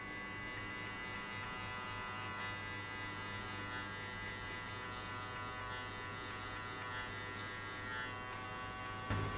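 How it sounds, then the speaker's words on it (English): Electric hair clippers buzz steadily and fairly close throughout a high skin fade haircut, a constant motor whine with a slight clunk at the very end. "flick the clipper out"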